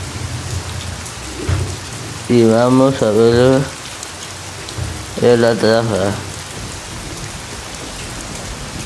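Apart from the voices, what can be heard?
heavy rain and wind at night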